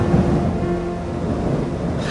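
Storm sound effect for a narrated children's story, a steady low rumble of thunder and rain-like noise, continuous and fairly loud with no voice over it, as a storm drives a character toward the coast.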